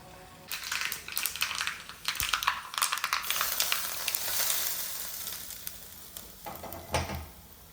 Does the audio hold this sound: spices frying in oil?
yes